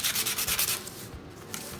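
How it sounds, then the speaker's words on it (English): Dollar Tree sandpaper is rubbed back and forth on a craft pumpkin in quick, close scratchy strokes, steady at first and then softening over a couple of seconds. "going to sand a little bit with my Dollar Tree sandpaper"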